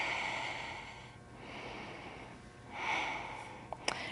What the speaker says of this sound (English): Always breathing through the nose.